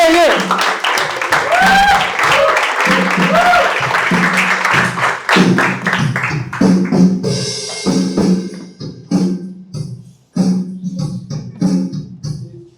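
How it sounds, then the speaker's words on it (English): A stand-up comedy crowd claps and cheers loudly as a performer is welcomed, then thins into scattered claps while voices talk and shout over them. "Start clapping, yes, show some energy, love."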